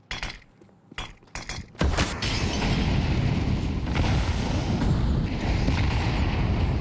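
A grenade goes off on the Ancient map in a professional Counter-Strike match: a sudden loud blast after quieter clicks, followed by a sustained rumbling wash of noise.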